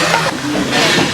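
The Puffing Billy heritage steam train hisses loudly and steadily close by at the platform, a broad continuous rush of steam with faint mechanical clatter beneath.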